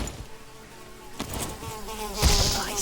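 An insect buzzes in the Valheim video game, a thin steady drone that swells louder near the end against faint ambient game sound, with no talking.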